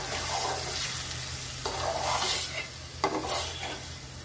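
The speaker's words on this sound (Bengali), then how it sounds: "এবার একটু ভালোভাবে নেড়ে দেওয়া হচ্ছে।" Boiling vermicelli (semai) being stirred in a pot, with a steady bubbling, scraping swish running throughout and a couple of sharper clinks of the spoon against the pot, close and continuous, with no talk.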